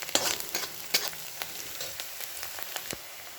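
Onion browning in a pan for a wild-vegetable curry, a continuous close sizzle with repeated spoon scrapes and clinks as it is stirred, no voices.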